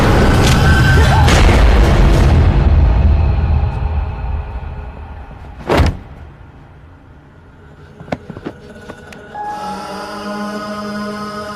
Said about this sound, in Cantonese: 點解開槍啊？